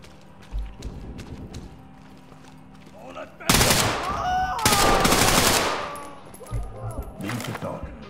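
Gunfire in a tactical video game breaks out as two loud, sustained blasts of shooting that stand out sharply from quieter background game noise and lighter thumps before and after.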